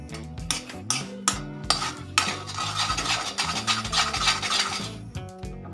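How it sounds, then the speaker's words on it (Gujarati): Milk powder is stirred into a potato mixture in a pan for instant penda, a spoon rasping and scraping across the metal in repeated close strokes, with occasional knocks against the pan's side. "આપણે દૂધના પાવડરને અંદર મિક્સ કરી દઈશું."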